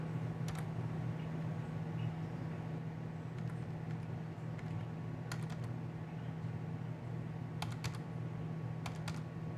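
Computer keyboard typing during a Linux lesson, with sparse clusters of quick key clicks over a steady low hum, fairly quiet and close.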